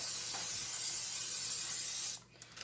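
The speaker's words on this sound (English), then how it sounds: "While you have your Pam or cooking spray out, go ahead and just spray the inside of your bowl." Cooking spray from an aerosol can of Pam misted into a mixing bowl while making doughnuts: one steady, loud hiss lasting about two seconds, then cutting off abruptly with a brief faint tail.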